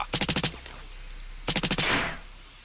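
A soldier's gun fires in the video game Silent Storm: two rapid bursts of about five sharp shots each, separated by a short pause, the second burst trailing into a brief noisy wash.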